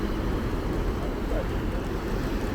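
Wind buffeting across the open deck of a ferry sailing from Poland to Sweden, a loud, constant broadband roar with rumbling microphone gusts, steady throughout.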